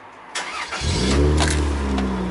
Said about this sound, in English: If we try and start the car